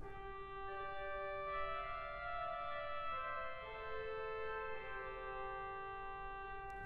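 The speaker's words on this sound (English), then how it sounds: "we have a rather fabulous cornopean" The cornopean swell reed stop of the St Edmundsbury Cathedral pipe organ plays sustained, bright reedy chords that shift slowly from one to the next, quiet and alone.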